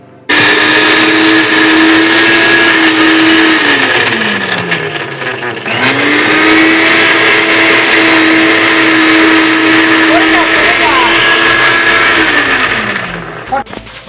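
A mixer grinder whirs steadily while grinding a paste of cashews and raisins, a loud sustained motor drone with a brief spin-down and restart midway, then winding down at the end.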